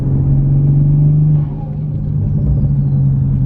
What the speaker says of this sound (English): All you hear is turbo noise.